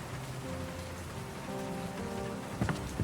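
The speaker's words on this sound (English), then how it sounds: "The rain beats against the office window." Steady rain beats against an office window in World of Goo 2 with a dense, continuous hiss, a low hum underneath and a couple of louder drops or taps near the end.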